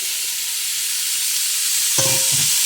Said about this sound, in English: So to that, I am going to add some diced up kielbasa sausage.